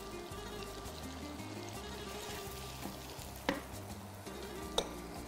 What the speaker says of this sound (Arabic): بدنا بس شوية تتقلب الثوم والزنجبيل طازة المفروم بهالزيت والزبدة